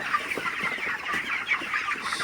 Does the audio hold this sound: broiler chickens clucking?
yes